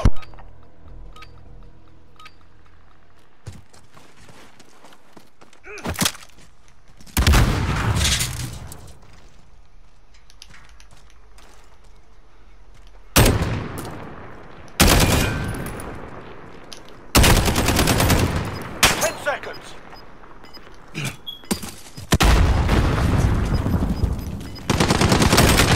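Shooting video game gunfire comes in several loud bursts of rapid automatic fire and single shots, separated by quieter stretches, with no talking.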